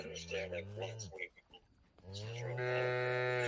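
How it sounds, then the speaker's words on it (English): A cow mooing sound effect sounds twice, loud and sustained, with a short gap between the two moos, while people talk over it. "we're going to play the cow."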